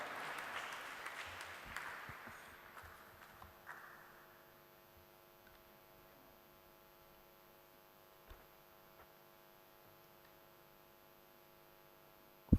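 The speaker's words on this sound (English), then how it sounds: "Please put your hands together and welcome with a big round of applause, Professor Dr. Vishwanath T. Karad, sir." Applause from a conference audience, fairly quiet and distant, tapers off over the first few seconds and leaves a steady electrical hum with an occasional faint tick.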